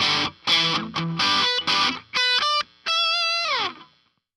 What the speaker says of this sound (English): And finally with some really nasty sounding distortion.